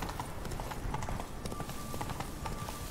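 The horse Roach trots in The Witcher 3, a quick, even clip-clop of hooves that holds steady for a few seconds over a game soundscape.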